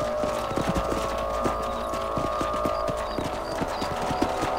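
Horse hooves clip-clop in a steady, quick rhythm over a constant low hum and background ambience, moderately loud, in the video game Red Dead Redemption.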